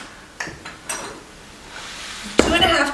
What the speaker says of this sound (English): we're going to mix our dry ingredients together first in this bowl